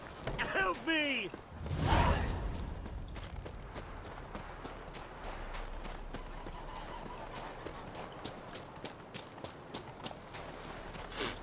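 Horse hooves clip-clop in The Witcher 3, a loud bright burst near the start, then a steady run of sharp, fairly close hoofbeats under a voice speaking.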